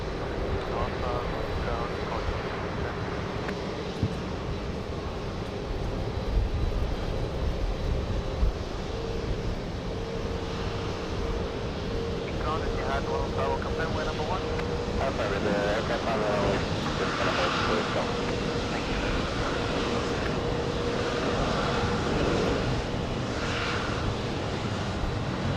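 Virgin Atlantic and Etihad jets taxiing close by at JFK airport, a steady engine whine and rumble persisting throughout, with a person speaking over it in places.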